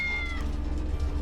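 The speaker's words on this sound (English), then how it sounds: "I'm sure that's a cat meowing." A cat meows inside a video game: one short, high, drawn-out meow at the start fades under a steady low rumbling hum of game ambience.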